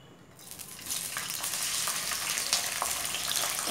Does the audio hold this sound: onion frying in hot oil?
yes